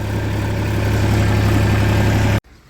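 A tractor engine idles steadily beside a sugarcane field with a deep, even rumble and hum, loud and close, before cutting off abruptly near the end.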